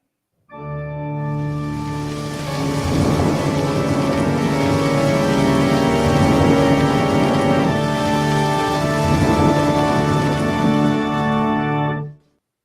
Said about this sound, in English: It is a dark and stormy night.